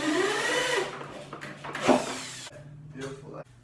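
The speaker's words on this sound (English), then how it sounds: "I'm using 50mm timber screws, pilot hole first" A power driver whines in short, rising-and-falling bursts as it sinks a 50mm timber screw into a pilot hole in a wooden skateboard shelf base, close by, ending with a brief final spin.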